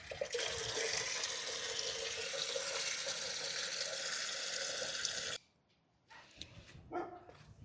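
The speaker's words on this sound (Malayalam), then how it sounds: "ഈ ഇതിൻ്റെ അകത്തേക്ക് നിറച്ച് വെള്ളം ഒഴിച്ച് നമുക്ക് കൊണ്ടുപോയി ചെടികൾക്ക് ഒഴിച്ചു കൊടുക്കാം" Water filling a container to water garden plants, a steady loud gushing stream that stops abruptly, followed by faint clinks and rustling.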